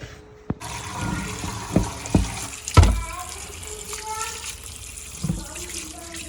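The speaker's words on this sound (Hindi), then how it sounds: "अभी फिश धोनी है" Fish being washed under a running tap in a village home kitchen, water splashing and pouring with bumps and handling clatter while a voice speaks briefly.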